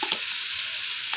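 Sauce hits a hot frying pan of kofta with garlic and sizzles loudly. The hiss is steady and close, with a few small pops.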